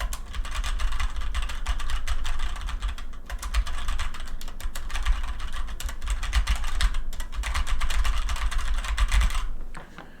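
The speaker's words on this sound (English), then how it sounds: "So if you guys want to hear them, I'm going to go ahead and just type a little bit." Steady typing on a HyperX Alloy Origins mechanical keyboard fitted with red linear switches, a close, continuous run of clacky keystrokes with brief pauses, moderately loud and heard alone.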